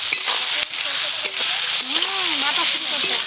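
Dried chilli, whole garlic, ginger, tomato and chopped onion sizzling and frying in oil, stirred with steady crackle and spatula scrapes, with a brief voice tone over the frying.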